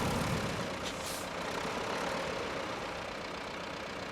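Heavy truck engine labouring steadily while crawling over boulders in Roadcraft, a loud continuous rumble with a brief hiss partway through and no talking.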